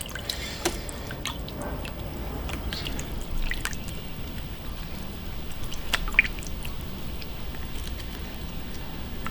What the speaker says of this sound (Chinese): 把它里面那个血啊什么的肠子粑粑洗干净